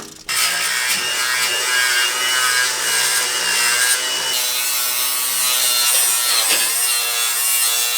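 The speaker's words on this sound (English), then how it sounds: "this is where we're going to cut the frame" A Ford Bronco frame is sawn through, giving a loud, steady abrasive grinding that runs almost without a break for about eight seconds and briefly dips near the end.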